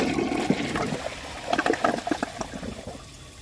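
A 2021 Mansfield Denali toilet flushing, with gurgling, trickling water swirling through the bowl in uneven bursts, fairly close and steady for a few seconds before tapering off.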